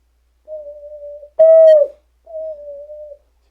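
Ocarina notes held at a quiet volume, heard as three separate pure, steady tones. The middle note is louder and a little higher and bends downward at its end, and there is silence between the notes.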